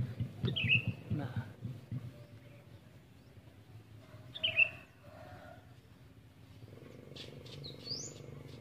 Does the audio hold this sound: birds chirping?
yes